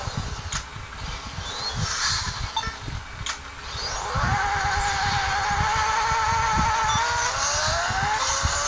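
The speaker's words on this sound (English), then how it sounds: "first put it in neutral, heat up the tires until they're really hot" Engine revving in the Pixel Car Racer video game as a car heats its tires in neutral, building from bursts of revs into a sustained high, steady whine with tire squeal, fairly loud and without talk.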